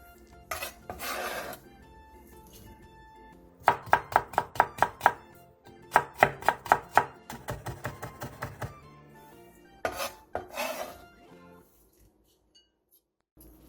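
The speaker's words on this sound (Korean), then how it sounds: "대파 2분의 1개를 어슷 썰고 당근 조금을 채 썰어주세요." A knife slices half a green onion on the diagonal and julienne-cuts a bit of carrot on a cutting board, with quick bursts of rhythmic close chopping taps separated by short pauses and a few louder handling knocks.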